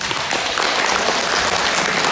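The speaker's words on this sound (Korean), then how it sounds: "한 번 더 뜨거운 박수 부탁드리겠습니다." At an academic conference on Sunmudo moving meditation, an audience gives warm applause, a dense, even wash of many hands clapping loudly throughout.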